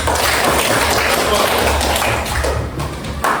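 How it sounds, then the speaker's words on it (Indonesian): A classroom of students claps together during a lesson, a dense steady patter of hands filling the room at close range, briefly thinning near the end, with some voices mixed in. "Tepuk tangan."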